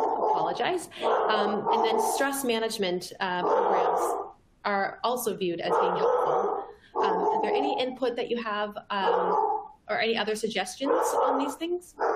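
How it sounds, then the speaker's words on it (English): A dog barks, growls and whimpers in the background during an online panel discussion, its yips surfacing intermittently beneath and between near-continuous talk. "Sorry, that is my dog"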